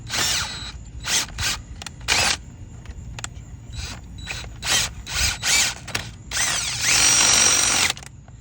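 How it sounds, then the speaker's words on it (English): A power drill drives a screw into a car battery terminal in repeated short bursts that start and stop, ending with one longer, steady whir up close. "Drill it all the way in."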